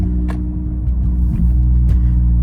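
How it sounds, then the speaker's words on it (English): A Toyota Camry engine hums steadily from inside the cabin as a paddle shifter triggers an upshift, the low drone shifting pitch around the middle with faint clicks over it. "So whenever I get to 3, I just press the plus paddle shifter, and it shifts up for me."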